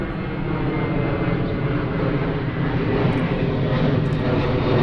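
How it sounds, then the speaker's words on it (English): An airplane passing low over a residential spot near Burbank airport: a loud, steady engine roar that fills the whole stretch without letting up. "I knew I was close to the Burbank airport, but this is every 2 minutes."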